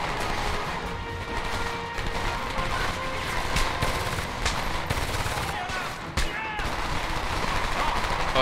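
Heavy gunfire fills a firefight in the video game Homefront, with rapid automatic bursts and dense crackling shots running almost continuously, plus a brief lull near the end, while a voice talks over it.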